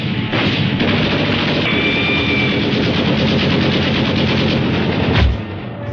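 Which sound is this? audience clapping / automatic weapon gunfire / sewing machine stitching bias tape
automatic weapon gunfire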